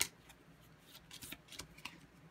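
Playing cards shuffled by hand during a tabletop card game, a run of quick riffling, papery bursts that rise and fall in a loose rhythm, fairly close and moderately loud, with no voices.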